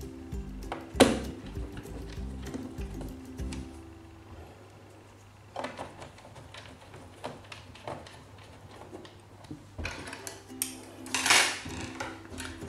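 A screw goes into a Casper Nirvana C650 laptop during an SSD upgrade, giving small, close metallic clicks and taps scattered irregularly, with a few louder knocks of the device being handled.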